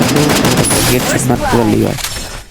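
Rapid gunfire from a shooting video game, a 1 vs 1 custom match, with dense, loud, continuous volleys filling nearly the whole stretch before trailing off at the end. Voices may be mixed in with the shots.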